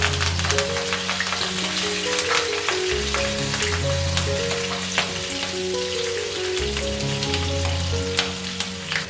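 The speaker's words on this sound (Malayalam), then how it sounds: "ഇതിലേക്ക് 4 പച്ചമുളക് ചെറുതായി അരിഞ്ഞതും കുറച്ച് കറിവേപ്പിലയും ചേർത്ത് ഇളക്കി കൊടുക്കാം" Green chillies and curry leaves are stirred into hot oil in a frying pan while cooking chicken, giving a steady close sizzle with scraping stirs under a continuous background of music.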